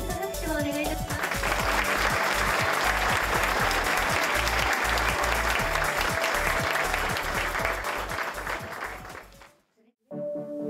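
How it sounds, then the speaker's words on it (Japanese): Sustained loud applause from an audience at a city hall award ceremony honoring Pyeongchang Winter Olympic athletes, dense clapping with a voice briefly at the start, fading out near the end into quiet and a brief voice. "拍手をお願いいたします"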